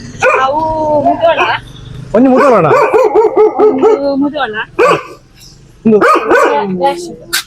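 Dogs, including a Labrador, bark and yelp loudly and close by in repeated bursts with short pauses between, while a person speaks briefly among the barks.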